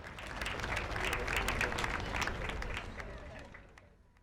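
A crowd at a Sashastra Seema Bal anniversary parade breaks into sustained, dense applause that swells, holds steady for a few seconds, then tapers off, with faint crowd noise mixed in.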